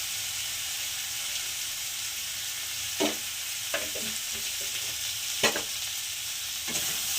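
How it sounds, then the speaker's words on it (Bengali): Mixed vegetables for Bengali shukto fry in a pan with a constant close sizzle, broken by several scraping stirs of a spatula, with no one talking. "সবজিগুলো এখন একটু খুব ভালো করে সবগুলো একসঙ্গে ভেজে নেব। 5 মিনিট ধরে এটাকে আমি এখন একটু ভেজে নেব।"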